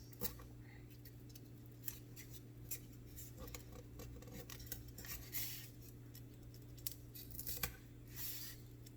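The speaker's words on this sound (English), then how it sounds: "So you're going to cut right down that line." Scissors snipping along a marked line on material for a 3D printed night light, a run of quick, light cuts over a steady low hum, close by with no talk.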